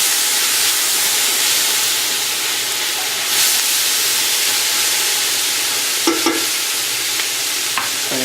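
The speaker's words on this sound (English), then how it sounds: "Okay, I'm going to let this saute down." Vegetables for cabbage soup sauté in a pan with a loud, continuous sizzle and hiss, close and steady, with a few light utensil taps near the end.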